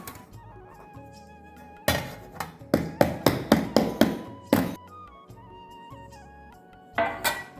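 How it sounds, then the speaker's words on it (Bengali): Hard homemade semolina rusk biscuits tumble into a container, a burst of sharp clunks and rattles in quick succession, then quiet, then another short clatter. "এবার আমি একটা পাত্রে ঢেলে নিচ্ছি"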